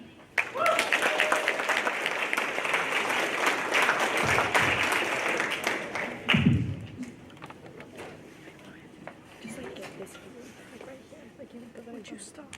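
Audience applause after a soapbox speech at a social justice day event, a dense wash of many hands clapping for about six seconds, then thinning to scattered claps with a voice speaking over the tail.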